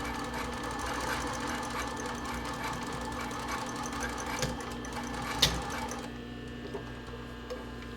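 Sewing machine running a back stitch at the end of a seam on a sports bra, a quiet steady mechanical whir with light ticking that stops after about six seconds, followed by faint handling clicks.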